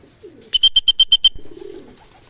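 Racing pigeon cooing on arrival at its loft after an 80 km training flight, a quick run of about seven close, clear coos, with faint softer calls before and after.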